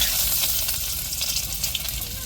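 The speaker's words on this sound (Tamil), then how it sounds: "வெந்தயம் சேர்த்துக்கிடுவோம் வெங்காயம் சேர்த்துக்கிடுவோம்" Fenugreek seeds and onion hit hot oil in a tempering for a fish curry, giving a loud, dense, continuous sizzle with faint crackle and stirring, close up and without talk.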